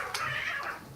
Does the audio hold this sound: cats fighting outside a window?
yes